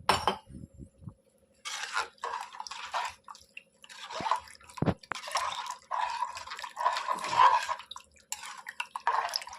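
Three full glasses of water are poured into a pot for homemade coconut rice, producing several separate bursts of splashing and trickling with metallic clinks from the vessels between pours, close and fairly quiet with no talking.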